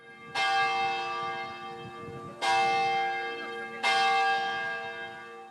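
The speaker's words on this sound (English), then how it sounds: "the bells in the church tower tolled for the last time" Church tower bells tolling at the beginning of Mass, three loud, ringing strikes about two seconds apart, each decaying slowly with rich overtones.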